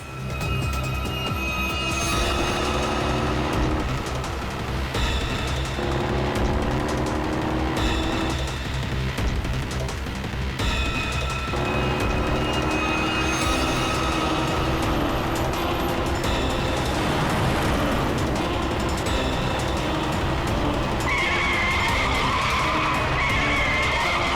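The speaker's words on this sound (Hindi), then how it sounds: "ट्रक कहां से आ गया? ट्रक हटाओ! गाड़ी हटाओ!" A truck roars in during a chase scene, with loud, sustained tire skidding and squealing over a revving engine, continuous and close throughout.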